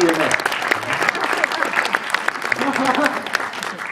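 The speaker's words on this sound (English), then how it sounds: "Can you guys give him a clap?" Audience applause for a speaker at a church testimony gathering, a steady wash of many hands clapping close by for about four seconds, with voices mixed in under it.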